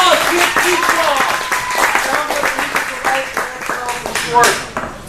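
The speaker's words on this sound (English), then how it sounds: "Give Jim a round of applause." A networking anniversary event audience in Stockton claps for a speaker named Jim, a sustained round of applause with distinct individual claps, moderately loud and close, with some voices and cheers mixed in near the end.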